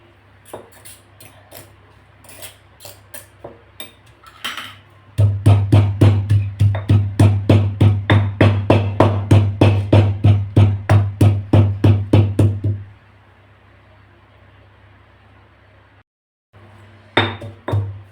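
Rhythmic pounding of dried bombil fish with a pestle in a mortar, dozens of quick, even thuds in a steady run, preceded by scattered lighter taps.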